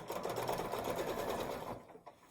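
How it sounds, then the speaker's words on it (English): A sewing machine stitches quilt blocks in a quilt-as-you-go project: a fast, close, steady mechanical whirring run that stops near the end, leaving brief faint handling clicks. "I can sew that and hold it"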